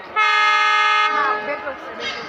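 A train's horn sounds at a railway station as the train comes through: one loud, sustained blast that cuts off after about a second, followed by fading rumble and background noise.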